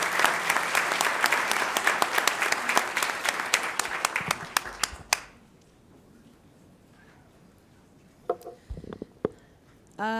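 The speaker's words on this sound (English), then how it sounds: "Can we do one more round of applause for all of these runners-up" A crowd at a school board of education meeting gives a round of applause for award runners-up, dense clapping for about five seconds that stops abruptly, followed by quiet room tone and a few faint bumps.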